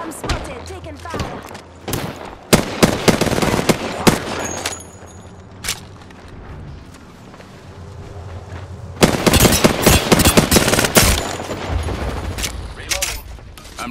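Bursts of automatic gunfire in an Apex Legends firefight, clustered volleys around intermittent quieter stretches, loud and close with speech in the mix.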